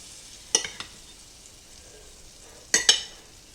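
Butter sizzling in a frying pan with leftover pork chop drippings, a soft steady crackle with a few sharp louder spits and pops, close up with no talking.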